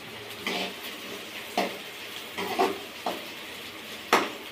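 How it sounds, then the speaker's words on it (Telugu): Egg fried rice being cooked in a pan, with a faint low sizzle under a run of sharp scraping and clinking stir strokes that come at irregular moments. "గోల్డెన్ ఫ్రై అయ్యేదాకా వెయిట్ చేయాలి"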